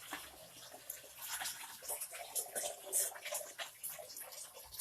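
Water trickles and splashes softly as it drains from cotton paper pulp, a faint continuous draining with small drips and spatters.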